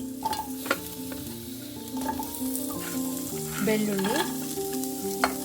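Onions frying in a spoonful of oil in a pan for a village-style heerekai buttikara, a steady close sizzle with occasional stirring and tonal clinks throughout, no voices.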